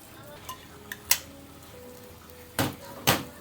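Sous-vide meat sears in a hot pan, with short bursts of sizzle and several sharp clanks of a utensil against the pan, loudest toward the end.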